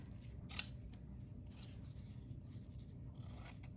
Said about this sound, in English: I need to cut my other little pieces.